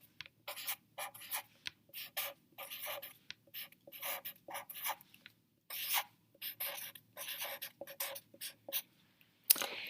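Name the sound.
writing on notebook paper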